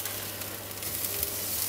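Onion frying in a Teflon pan on high heat, a steady dense sizzle and crackle throughout, close and alone without talk.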